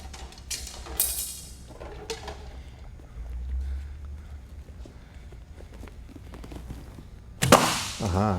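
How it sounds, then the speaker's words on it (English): A bow looses an arrow that bursts balloons in a trick archery shot, heard as sharp snapping cracks and pops, then a loud swishing burst near the end against quiet outdoor background. "I'll try to hit 2 balloons with 1 arrow."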